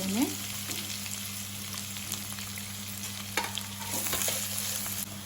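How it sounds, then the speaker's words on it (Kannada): Green chillies and chopped onion fry in a pan with a steady close sizzle, and a spoon stirs and scrapes now and then. "ಈಗ 2 ಹಸಿಮೆಣಸಿನಕಾಯಿ ಹಾಗೆ ಹೆಚ್ಚಿಟ್ಕೊಂಡಿರುವಂತಹ ಈರುಳ್ಳಿಯನ್ನು ಹಾಕಿ ಮತ್ತೆ ಫ್ರೈ ಮಾಡ್ಕೊಳ್ತೇನೆ"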